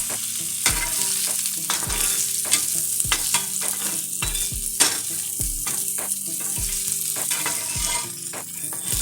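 A salmon fillet sizzles and fries in a non-stick frying pan, with a steady hiss throughout and repeated scraping clinks of a metal utensil stirring against the pan.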